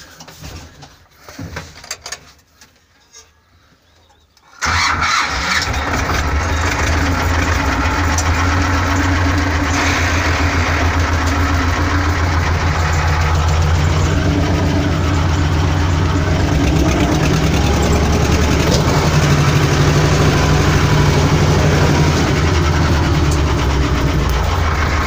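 A tractor engine starts up outdoors beside a plough fitted with a comb harrow, jumping from quiet background sounds to a loud, steady, close rumbling run that continues for about twenty seconds.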